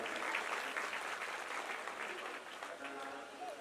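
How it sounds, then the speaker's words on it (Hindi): A crowd at a Ramayana mandali performance claps together, a dense sustained patter of applause that fades slightly toward the end, with voices faintly audible underneath. "ताली बजाओ सब संचालक"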